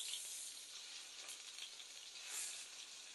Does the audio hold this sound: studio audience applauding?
no